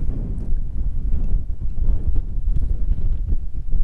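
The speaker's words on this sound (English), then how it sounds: "quite windy though" Wind blows across the microphone at the top of Pole Bank in the Shropshire hills, a loud steady low rumble with gusty buffeting throughout and no speech.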